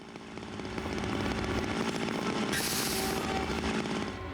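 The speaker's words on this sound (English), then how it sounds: "they're yelling at each other over the chainsaw sounds" A chainsaw roars steadily in the video game Zero Time Dilemma, a loud continuous motor drone with a harsher, hissing surge midway, no voices heard.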